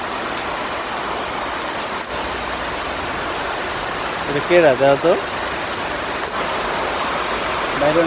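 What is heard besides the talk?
heavy rain falling outside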